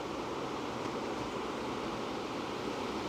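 Steady, dense wash of ocean surf played as a continuous background masking sound for tinnitus relief, even and unbroken with no distinct wave breaks, heard alone at moderate level.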